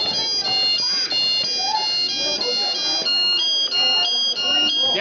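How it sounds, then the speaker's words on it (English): A firefighter's air pack alarm repeats in steady pulsing chirps, loud, shrill and continuous, with a voice speaking faintly underneath. "If an air pack sounds its alarm, it means the fireman's not doing anything."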